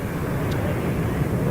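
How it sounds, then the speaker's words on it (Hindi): Fighter jets at an air show, including Rafale aircraft, roar as a steady, loud broadband rumble that fills the short stretch without a break. "लड़ाकू विमानों ने रोमांचित करने वाले करतब दिखाए हैं।"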